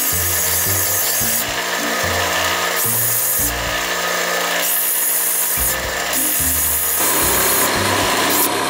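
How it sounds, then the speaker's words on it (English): A ribbonstone gemstone is ground on a 280 grit metal grinding wheel, making a loud, continuous abrasive whir that swells in harsher bursts as the stone presses against the wheel, with no voices. "So I'll be using a 280 grit metal grinding wheel. I will be mainly grinding this just to smoothen the surface."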